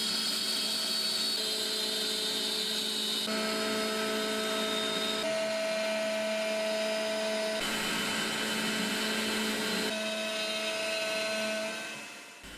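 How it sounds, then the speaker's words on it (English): Makera Z1 CNC mill pocketing a central boss with a 1/8 inch three-flute end mill, a loud steady whine of spindle tones holding through the cut, with pitch shifts at several points and a fade near the end. "the 1/8 of an inch 3 flute end mill performs a pocket operation to mill the central boss"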